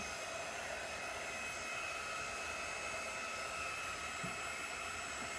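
Steady close whir of a heat tool drying a craft project, an even, constant blowing hiss that continues without pause and with no talking.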